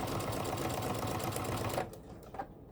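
A sewing machine runs a quarter-inch seam on a quilt block, a close, fast, even whirr of stitching that stops abruptly, followed by faint handling noises.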